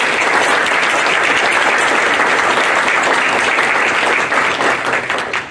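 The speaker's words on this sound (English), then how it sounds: "let's give this group a warm round of applause." Loud, dense audience applause for art students' senior thesis presentations, steady clapping from a full room that tapers slightly at the end.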